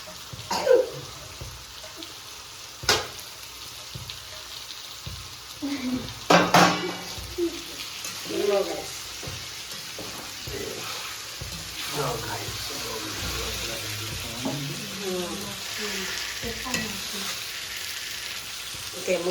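Vegetables tipped into hot oil in a home kitchen pan sizzle and are stirred, with pan clatter and water noise; voices talk over the cooking throughout.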